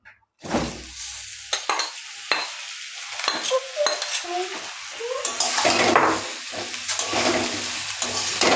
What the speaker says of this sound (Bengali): এবার এর মধ্যে দিয়ে দেব আগে থেকে ভেজে রাখা সবজিগুলো